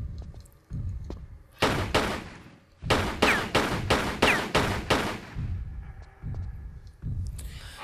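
Gunfire in Tomb Raider 3 while fighting statues: a rapid string of sharp shots in bursts, loud and close, with dull thudding impacts between them.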